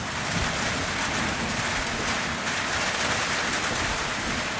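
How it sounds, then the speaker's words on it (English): Heavy rain pours down steadily during a thunderstorm in the Australian bush, a dense, even hiss that stays loud throughout with no voices. "It's lightning and thunderstorming."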